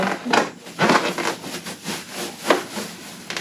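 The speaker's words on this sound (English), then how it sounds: "I am rubbing it with some fur. And I'm rubbing it with my wool." An object is rubbed with fur and wool, giving a series of soft, uneven brushing swishes close to the listener, each stroke rising and fading.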